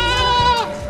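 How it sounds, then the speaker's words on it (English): A goat lets out one sustained, wavering bleat at close range, loud and clear with no talk over it. "I think this goat's trying to tell me that he knows my ma."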